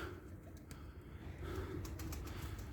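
Baby pigeons making soft, low, muffled cooing and murmuring sounds up close, set against a steady rumbling background.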